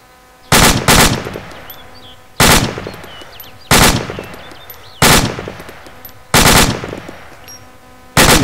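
Long bursts of automatic machine gun fire in a realistic military shooter video game, five or six heavy volleys spaced about a second or two apart, loud and close, each with a short echoing tail and no talking.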